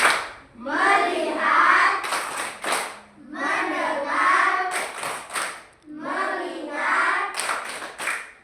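Primary school children in a classroom perform the rhythmic tepuk fokus clapping routine, three rounds of chanted words in unison, each ending in crisp bursts of clapping hands.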